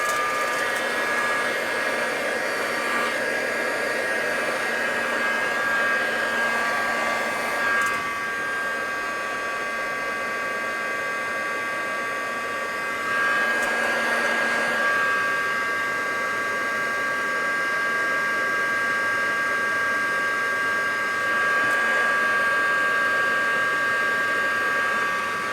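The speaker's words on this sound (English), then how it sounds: "but I need the heat gun" A heat gun blows a steady, loud, continuous stream of hot air over epoxy resin art, whirring without break and briefly shifting in intensity as it is moved.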